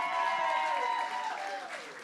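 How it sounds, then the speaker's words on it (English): Applause from an audience at a live music gig at The Bedford, a dense, steady patter of clapping with a sustained ringing tone above it that slowly glides down and fades. "Can we give him another massive round of applause?"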